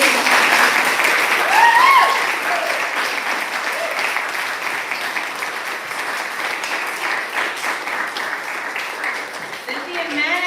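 Sustained audience applause after a poetry reading at an evening literary event, a dense wash of many hands clapping that stays steady for about ten seconds, with a few faint cheers and voices mixed in near the start.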